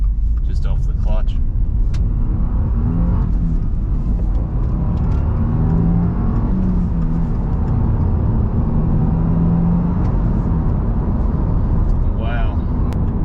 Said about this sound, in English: we'll just have a look at how the WRX accelerates just off the clutch